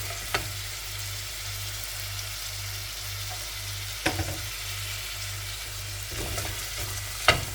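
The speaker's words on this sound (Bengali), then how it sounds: "লবণ লবণ দিয়ে পেঁয়াজটা একটু ফ্রাই করে নেব" Onion fries in oil with salt in a pan, a soft, even sizzle running throughout with a few brief spoon scrapes and clicks, fairly faint beneath a low background hum.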